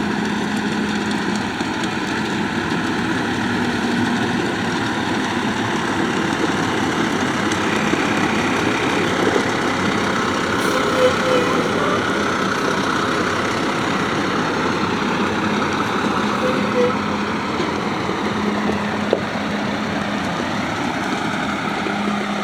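A heavy vehicle's engine runs steadily while packing down a fresh load of gravel, a continuous loud low rumble with an idling character that holds level throughout, with no talk over it.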